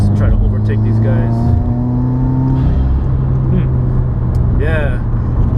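Engine of a Subaru WRX with a J-pipe building revs as it accelerates to overtake traffic, a steady loud drone with rising tones beneath someone talking over it.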